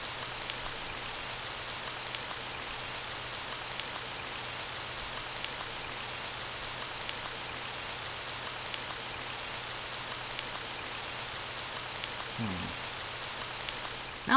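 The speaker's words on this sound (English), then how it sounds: "Well, nice walking through the rain with a broken leg." Steady rain falls in the Phantom Legacy video game, a constant broadband hiss of drops that runs unbroken and even throughout, with a brief low thump near the end.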